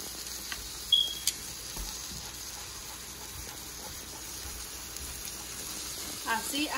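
Beaten egg cooking in a hot pan gives a steady, fairly quiet sizzle throughout, with a few faint clinks and stirring sounds.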